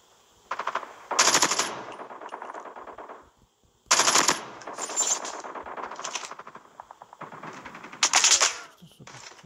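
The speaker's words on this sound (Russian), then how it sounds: "И все, и пошел отстрел." Call of Duty Mobile gunfire rattles in fast automatic bursts, three loud clusters of rapid shots separated by short pauses, with sharp crackling impacts and little talk.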